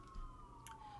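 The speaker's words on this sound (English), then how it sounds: "Wow, sirens." A faint, distant siren holds a steady wailing tone that slides slowly downward in pitch, low in level beneath a quiet room background, with no one speaking.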